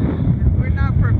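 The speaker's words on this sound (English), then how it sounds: "It's really windy." Strong wind on a mountain top above a small ski area in Poland, near the Slovak border, buffeting the microphone with a loud, continuous low rumble and gusts, with faint voices mixed in.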